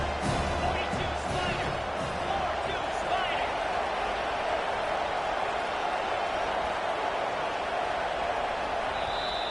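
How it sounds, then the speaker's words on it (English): Football stadium crowd roaring continuously at a college game during a red zone defensive stand, a dense, loud wall of sustained noise with cheering swells and a commentator's voice over it. "This crowd is trying to inspire this defense to make a big red zone stop."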